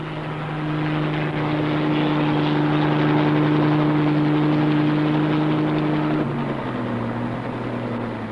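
An Army helicopter drones steadily overhead, its rotor hum and engine tones holding loud and constant, then shifting pitch slightly near the end as it moves.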